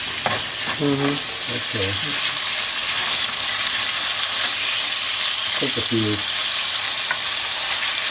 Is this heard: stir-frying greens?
yes